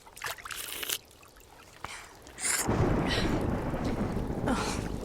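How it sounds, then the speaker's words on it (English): Rain and thunder sound in a radio drama of The Voyage of the Dawn Treader. Faint patter and rumbles give way to a sudden, steady, loud downpour that continues to the end, with no voices over it. "Oh, it would rain."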